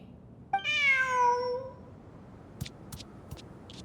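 A single clear cat meow from Genshin Impact, a drawn-out falling call lasting about a second, followed by a few faint clicks in quiet surroundings.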